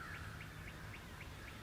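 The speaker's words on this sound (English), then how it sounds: "There are turkeys gobbling all around." Wild turkeys gobbling in the woods during spring, a faint, distant series of repeated calls rising above a steady low background hum, with no one speaking.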